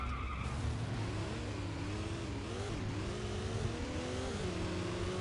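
GT2-class race cars in Sports Car GT spin out at Laguna Seca, with long squealing tyre skids and wavering engine tones, held and steady, moderately loud and with no talk.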